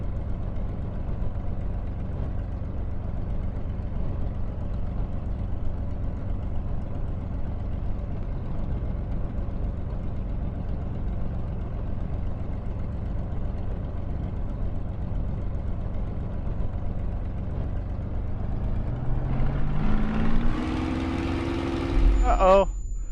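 A steady aircraft engine drone from Microsoft Flight Simulator on Xbox Series X holds at an even pitch, then swells and rises in pitch near the end before breaking off abruptly.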